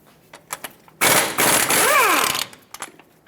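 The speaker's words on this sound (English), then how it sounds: "Use a 21mm socket to remove the bolts that hold the caliper bracket onto the front axle." Bolts on a 2000-2005 Ford Excursion front caliper bracket are broken loose with a ratchet and 21mm socket, a loud burst of clicking and grinding lasting about a second and a half after a few faint knocks, up close with no talk.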